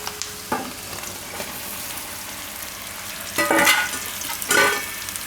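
Spiny gourd pieces dropped into a pan of frying onions, a continuous soft sizzle with a few spoon scrapes and two louder bursts of stirring near the end, close, no voices.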